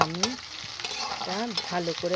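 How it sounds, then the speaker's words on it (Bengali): Soft frying sizzle of chopped onions and green chillies in oil with stirring clatter in a pan, while a voice hums or sings a wavering tune over it. "ভালো করে আমি ভেজে নেব"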